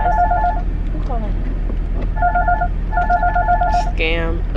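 A mobile phone rings with an incoming call inside a moving car on a road trip, a repeating electronic ringtone in short bursts over a steady low road drone, with a brief vocal sound near the end.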